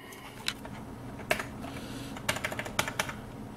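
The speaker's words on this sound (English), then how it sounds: "I have to grab the keyboard" Keys clacking on a computer keyboard at a gaming PC during a CPU swap, a few scattered sharp presses then a short quicker burst of typing, close and fairly quiet with no talking.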